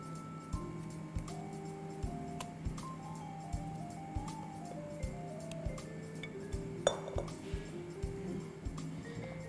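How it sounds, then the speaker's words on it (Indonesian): Batter stirred in a bowl, with regular clinking knocks of the utensil against the bowl's side roughly every half second over background music. "Aduk rata"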